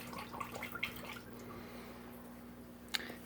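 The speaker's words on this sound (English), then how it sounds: "So I'm going to stir this water up for him." Water stirred by hand in a small hospital tank for a sick fish, giving soft close drips and sloshes with a couple of sharper splashes, steady pump hum beneath and no talking.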